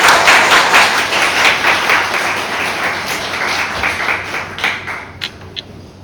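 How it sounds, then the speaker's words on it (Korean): Enthusiastic crowd applause at a Sunday church service welcoming a missionary preacher, dense and loud at first, then thinning out to a few scattered claps before fading. "나오실 때 우리 뜨겁게 박수치며 환영하겠습니다."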